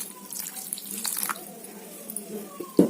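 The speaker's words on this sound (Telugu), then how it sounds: "ఇంకొంచెం వాటర్ అయితే పోసుకోండి" Water is poured into a cooker pot holding peanuts in their shells, giving a soft splashing trickle that swells and fades, ending with a sharp clunk.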